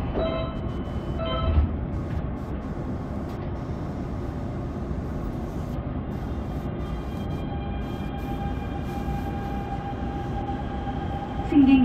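Interior of a Daegu Metro Line 1 subway car running between Yonggye and Yulha toward Ansim, a steady rolling rumble and whine of the train heard continuously at moderate level, with a brief bump of louder noise at the start and end.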